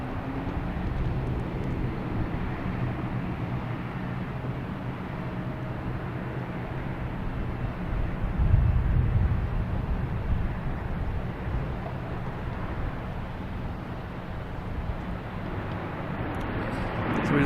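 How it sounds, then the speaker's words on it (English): An American Airlines A321neo arriving from Dallas-Fort Worth lands on runway 4 right at Boston Logan Airport, a steady distant jet roar holding even throughout, swelling slightly near the middle, with light wind noise and no talk. "Here's the American Airlines coming in from Dallas-Fort Worth. A321neo."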